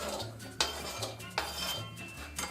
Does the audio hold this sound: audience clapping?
no